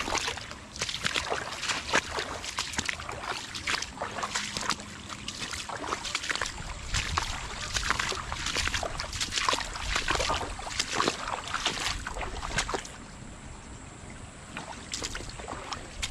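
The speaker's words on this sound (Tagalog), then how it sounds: "Lumihis ang tubig." Irrigation water floods through a bean field, making a continuous close sloshing, trickling wash with scattered splashy spikes, steady and fairly loud throughout before easing a little near the end.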